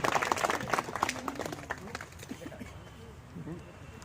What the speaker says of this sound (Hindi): तालियां जरूर बजा दो